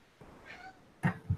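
A house cat gives a short, soft meow followed by two quicker, louder chirping meows, close by in a quiet indoor room.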